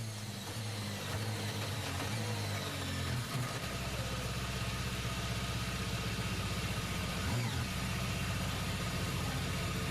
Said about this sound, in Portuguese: E aí o momento do motor do Giovinazzi parando